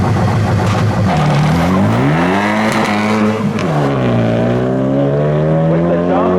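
BMW 335i launching at a North Carolina street drag race, the engine revving hard and climbing through gears with rising and falling pitch, loud and close, joined by another car's engine.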